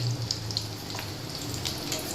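Katla fish roe rubbed with salt, turmeric, chilli powder and garam masala fries directly in a pan, giving a continuous, even sizzle that stays close and steady throughout with no voices.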